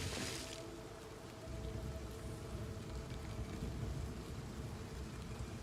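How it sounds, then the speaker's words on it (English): Steady rain in the video game Oblivion, a dense, even wash of falling water that stays loud and constant throughout, with a brief brighter hiss at the very start. "The audio's kind of weird. Like, the rain's too loud."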